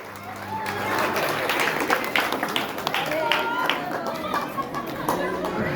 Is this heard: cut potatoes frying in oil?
no